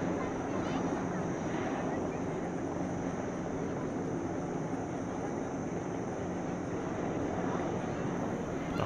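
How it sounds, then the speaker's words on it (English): Military helicopters fly past at the LIMA Langkawi 2023 airshow, a Caracal leading two AW139s flanked by a pair of Army A109s, giving a steady, loud rotor and engine roar that holds throughout with wind buffeting. "First, the helicopters, a caracal leading two AW139s, flanked by a pair of Army"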